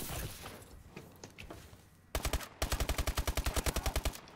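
Rapid gunfire in a team deathmatch match on the Sideshow map, heard as a single loud blast followed by a fast, steady burst of sharp shots close up, after a stretch of muffled game noise.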